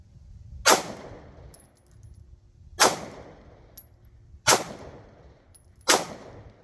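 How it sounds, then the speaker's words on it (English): Four single shots from a Kahr PM9 pistol, each a sharp loud crack spaced a second or two apart, fired outdoors with quiet gaps in between. "if I shoot this gun the way it was intended to be shot, it's actually more accurate than I am"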